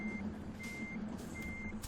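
A truck in Euro Truck Simulator 2 gives steady reversing beeps, three evenly spaced tones sounding against a low idling engine rumble, with no talk.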